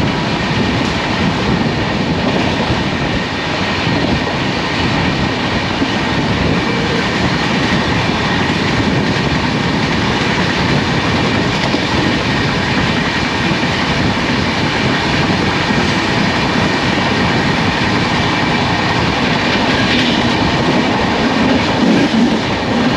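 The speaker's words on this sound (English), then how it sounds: "as you can see there is a freight running parallel to us also" A freight train on a parallel track rumbles continuously beside a moving passenger train in India, steady clattering of wheels on rails, loud and close, a broad sustained roar with occasional faint squeals.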